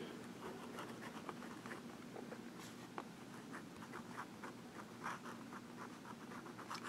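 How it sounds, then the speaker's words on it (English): A Visconti Ragtime fountain pen with a wet, juicy nib writes in reverse on paper, making soft, close scratchy strokes that come in quick repeated bursts, alone and quiet. "Reverse writing."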